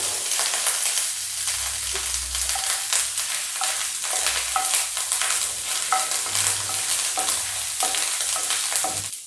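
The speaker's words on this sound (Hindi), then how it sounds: "इसे हमें बहुत हल्का ही फ्राई करना है।" Ginger and green chillies fry lightly in hot oil for a halwai-style samosa filling, a steady sizzle with repeated clinks and scrapes of stirring throughout.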